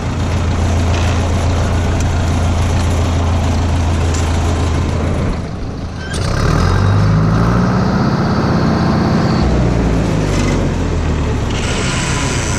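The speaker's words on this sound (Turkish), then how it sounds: "Şöyle karıştırıcıyı çalıştıralım." Tractor-driven mixer stirring a sprayer tank on a Steyr 768 tractor, loud steady mechanical drone that dips briefly partway through, then resumes with a lower, rising hum under continuous engine noise.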